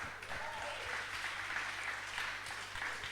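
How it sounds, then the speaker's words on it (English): Applause from an audience at a festival opening party forms a soft, distant, steady wash of clapping, faint and continuous with no single claps standing out. "You deserve a big round of applause, really."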